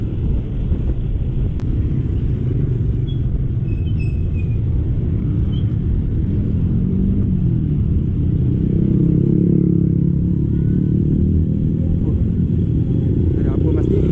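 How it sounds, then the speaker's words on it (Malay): Cars and motorcycles roll past at night on a road in Kundang, heard from a moving motorcycle. Steady low engine and road rumble with a swell of a passing vehicle midway, while a rider talks over it. "Kereta dan motor masih banyak lagi."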